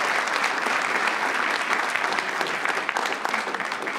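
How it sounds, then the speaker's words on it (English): Audience applause at a school board meeting, steady dense clapping from a crowd filling the whole stretch at even volume, no talk over it. "Another round of applause."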